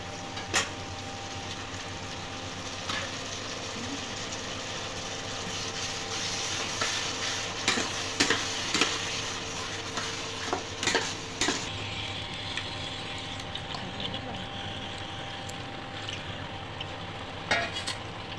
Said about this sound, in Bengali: সাধারণ একটু জল দেবো কেন মশলাটা ভাজার জন্য